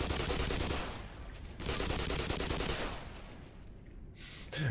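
Gunfire in the Black Mesa video game, with dense bursts of rapid automatic shots rolling in waves, loud at first, easing off, then picking up again near the end.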